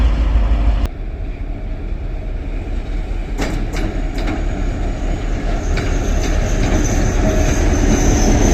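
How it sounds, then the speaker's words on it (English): An old works train carrying workers passes close by in Sarajevo, with loud rolling wagons, clickety-clack from the wheels and a few sharp metallic squeals, alone and without talk. "And here is an old train."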